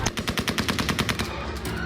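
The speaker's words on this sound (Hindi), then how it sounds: "एयरपोर्ट पर गोलियां चल रही हैं" Rapid bursts of automatic gunfire at an airport, about a dozen sharp cracks in quick succession, loud and close, then trailing off into a ringing echo.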